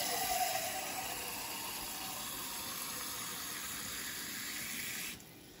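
Water runs steadily into a pot of daikon soup in a kitchen, a continuous close pouring rush that stops abruptly near the end, with no talking.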